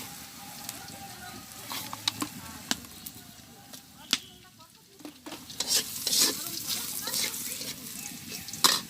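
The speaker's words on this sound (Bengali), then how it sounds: "আর একটু তেল দিয়ে দিই। দিয়ে দিচ্ছি 2টা শুকনো লঙ্কা।" Two dried red chillies sizzle in hot oil in a village kitchen, a steady crackling fry with sharp pops and stirring clicks throughout, close and moderately loud.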